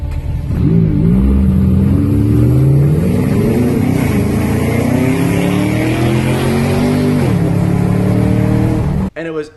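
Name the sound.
Camaro ZL1 and McLaren 570S accelerating in a street race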